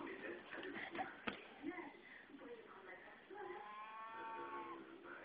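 A cow moos in a long, low drawn-out call, faint and quiet, with soft talking and shuffling noises around it.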